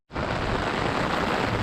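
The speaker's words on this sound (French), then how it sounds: "Là, je marche sous la pluie." Rain falling steadily outdoors in Japan, a dense, even hiss that starts abruptly and continues at constant loudness without voices.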